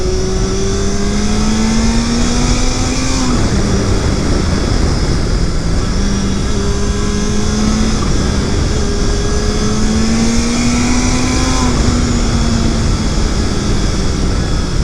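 A Yamaha XJ650 Turbo motorcycle accelerates hard, its engine note climbing loud and steady under heavy wind rush, then dropping briefly at two gear shifts before rising again.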